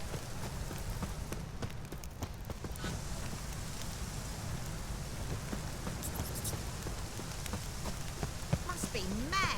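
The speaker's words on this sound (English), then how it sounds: "Must be mad running around in this rain." Steady rain falls in The Witcher 3, a constant soft patter and hiss over low rumble throughout, with scattered clicks and faint game sounds near the end.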